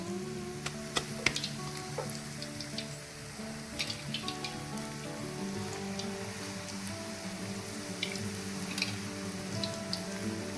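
Raw banana slices are grated straight into hot frying oil for wafers, making a steady, rain-like sizzle that runs throughout, with small crackles and occasional faint clicks, close and continuous, with no speech.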